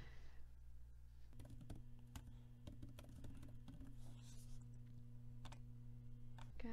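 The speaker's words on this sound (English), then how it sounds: "I'm gonna type in jingle all the Rae," Text being typed on a computer keyboard, a quiet irregular run of close key clicks and taps over a steady low hum.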